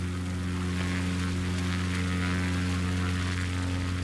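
A propeller airplane's engine in the video game Microsoft Flight Simulator 2020 drones steadily, a loud continuous hum with strong low tones and no pauses.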